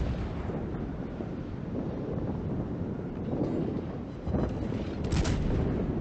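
Naval gunfire from a Des Moines heavy cruiser in the World of Warships video game rumbles as a dense, continuous low roar of booming salvos, loud and close with a sharper blast near the end.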